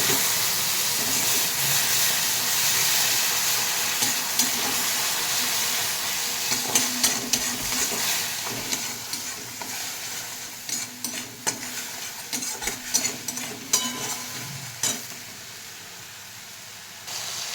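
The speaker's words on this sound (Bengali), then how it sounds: "আমি এখানে একটু দুধ গরম করে রেখেছি, এটা একটু মশলাটা পুড়ে যাবে, তো তার জন্য একটু সামান্য দুধ দিয়ে দিলাম" Masala sizzles and hisses steadily in a hot pan for shahi paneer after a splash of warmed milk goes in, with close scraping stir strokes and bubbling that grow more uneven toward the end.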